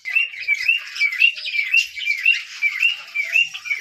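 Java sparrows and other pet birds chirp while eating green food, a close, lively run of repeated bright tweets and short calls in a steady rhythm.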